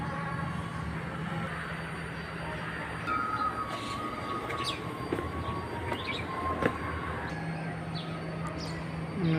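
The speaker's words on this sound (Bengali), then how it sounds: "এদিকে বুলেট ট্রেন যাতায়াত করে" A bullet train ride at Dream Holiday Park in Narsingdi runs along its track with a steady, moderately loud rolling rumble. Faint higher squeals and scattered birdsong sit above it.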